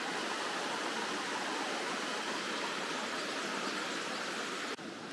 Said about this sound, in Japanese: ここで川が合流してます